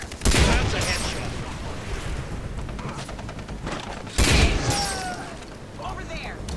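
Gunfire in the Far Cry shooter while fighting pirates, two heavy close blasts among scattered distant shots and rattling fire, with someone talking over the action.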